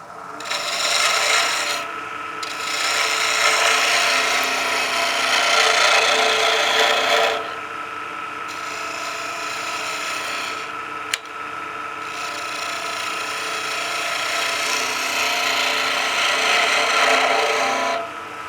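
Wood is cut on a lathe while a pizza cutter handle is turned, a steady scraping rasp that swells and eases over several passes, with a brief pause near the middle, close and continuous.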